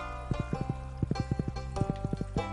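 Horse hooves clip-clop in Stardew Valley, a quick, even run of crisp close thuds in paired beats over a soft game music bed, with no talking.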